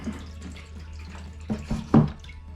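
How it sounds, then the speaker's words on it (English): Water trickles and splashes back through a hydroponic greenhouse system, with soft irregular drips and a few louder gurgling spurts close by over a low background hum. "You can see the water going back in."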